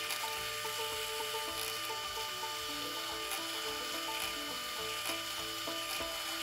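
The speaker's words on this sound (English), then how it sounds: "Right here, we are using a 3/16 drill bit to drill the primary pin holes." A 3/16 drill bit bores pin holes through knife handle scales on an EDC knife, giving a steady whirring drone with a rising and falling tonal whine and small bumps of pressure throughout.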